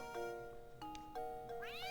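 A cat in the Professor Layton video game meows several times in close, clear, synthetic-sounding calls that rise and fall over a faint steady background.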